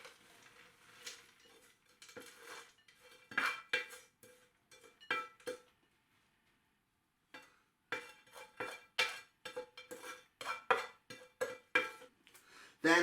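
Raisins and nuts scattered onto a dish of hummus, heard as a run of light clattering taps and clinks from a spoon against a bowl, arriving in irregular bursts with a short quiet pause partway through.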